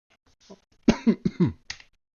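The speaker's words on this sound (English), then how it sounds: "I need to clear my throat a little bit" Several sharp, close throat-clearing bursts in quick succession, a gruff rasping series followed by a last shorter hack, in an otherwise quiet room.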